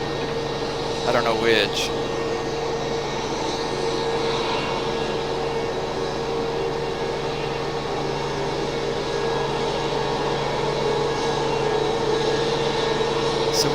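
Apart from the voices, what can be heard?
aircraft arriving at Raleigh-Durham airport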